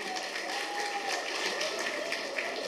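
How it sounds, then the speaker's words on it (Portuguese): Audience applause at a community celebration for mothers' and fathers' day, a dense, even wash of many hands clapping at moderate distance, sustained steadily with no talk over it. "também merece grande aplauso para Manchevo Beach Hotel"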